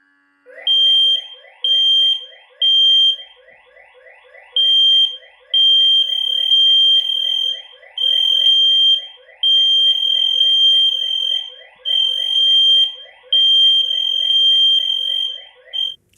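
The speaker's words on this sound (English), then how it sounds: "All the alarms sound together. And I can tell you, this is loud." Several X-Sense Link+ Pro smoke alarms sound in unison, setting off loud, piercing electronic beeps in rapid repeating bursts broken by short gaps, close by and with no voices.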